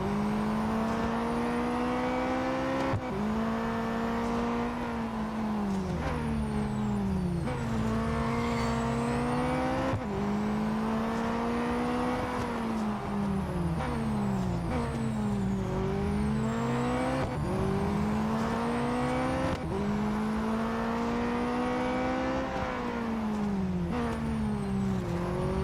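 Race car engines in the mobile racing game Real Racing 3, a continuous loud whine that climbs and drops through repeated gear shifts as the car accelerates and brakes, with faint tire noise throughout.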